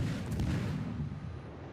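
Enemy gunfire from a York cruiser in a World of Warships naval battle booms out as a single deep, distant artillery blast. The rumble rolls out and fades slowly over a couple of seconds.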